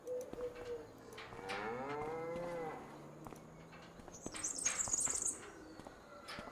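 Cows in Farming Simulator 25 moo in long, drawn-out calls at a barn holding many cattle, with a short burst of higher game sound near the end; no one talks.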